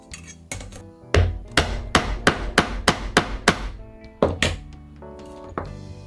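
Sharp mallet blows striking a stamp into a dampened leather glasses case, about a dozen loud, evenly spaced knocks in a steady rhythm, pausing briefly before a few final strikes.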